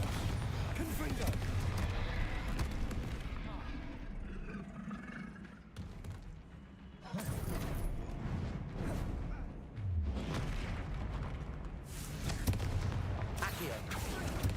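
Bombarda and Confringo spell explosions burst repeatedly during Hogwarts Legacy combat, loud booming blasts and whooshes coming in several bursts across the stretch, with a voice calling out over them.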